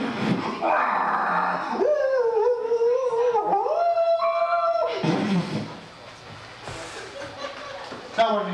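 A person on a cabaret stage vocally imitates a dog howling at a garbage disposal, with rising and wavering long tones, then harsher noisy growls and hissing like a police siren and a spitting cat.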